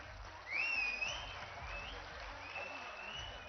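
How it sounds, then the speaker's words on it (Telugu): Audience applause at a Madiga employees' committee thanksgiving meeting in Telangana with Chief Minister Revanth Reddy. The dense, steady clapping rises after a brief pause and continues throughout, with a few faint whistles above it. "తెలంగాణ రాష్ట్ర వ్యాప్తంగా లక్షలాది చప్పట్లు మోగుతూ ఉన్నాయి."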